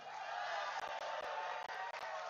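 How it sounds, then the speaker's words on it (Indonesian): A crowd at a South Sulawesi governor candidate number draw event applauds and cheers for a dignitary, a loud, dense, continuous roar of clapping and voices with a few brief dropouts. "tepuk tangan untuk beliau"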